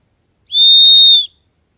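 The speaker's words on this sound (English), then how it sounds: "Dog's disappeared, better just give him a whistle." A single clear, high-pitched whistle to call a dog, held steadily for under a second, loud and close, with silence before and after.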